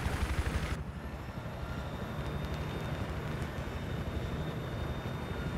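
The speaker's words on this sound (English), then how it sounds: "Get that helicopter again." A helicopter in the video game Battlefield 3, a steady low rotor thrum and engine drone running continuously at moderate level, with a brief brighter burst of game noise at the very start.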